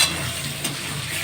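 Spicy chicken with salt and turmeric fries in a pan, a loud, dense, continuous sizzle with faint stirring scrapes, close and steady with no voices.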